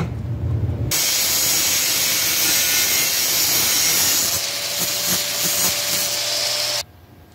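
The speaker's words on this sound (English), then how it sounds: "So back to the angle grinder." An angle grinder works metal e-bike fork parts, a loud continuous harsh whine and hiss that runs for about six seconds before cutting off abruptly.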